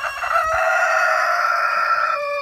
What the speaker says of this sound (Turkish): Evet, tavuklara geçiyoruz.